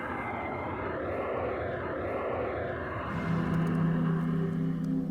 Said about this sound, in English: Victor, can you change the noise to aircraft noise, please